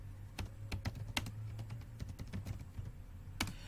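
Fast typing on a computer keyboard at a Kali Linux console, with irregular clicky keystrokes in quick bursts, close and fairly loud over a low steady hum.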